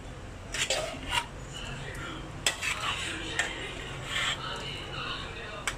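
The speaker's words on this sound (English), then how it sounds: "So I'm going to stir this in." A spatula scrapes and clanks around a wok as pork belly curry with carrots is stirred, irregular metallic knocks and scraping over a steady background, close up, with faint voice in the background.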